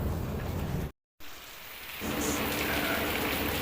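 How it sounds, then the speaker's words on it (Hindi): Heavy rain pouring down, heard from a balcony: a dense, loud, continuous hiss with a brief dropout, then the downpour swells back even fuller. "बारिश एक्चुअली बहुत ज़्यादा तेज़ हो रही है।"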